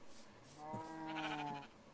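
Minecraft cow giving a single drawn-out, tonal mooing call in the video game, heard clearly and alone over a faint background hiss.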